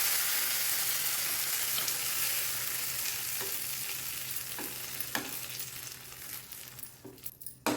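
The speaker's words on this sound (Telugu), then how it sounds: "ఇప్పుడు ఈ తాలింపుని తీసుకొచ్చి ఇందులో వేసేయండి" Hot tempering with curry leaves poured into peanut chutney bursts into a loud close sizzle that gradually fades, with a few sharp clinks and spoon taps toward the end.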